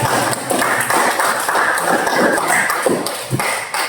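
Students in a classroom lesson clap together in a sustained round of applause, dense and steady for about four seconds, with a few louder taps standing out.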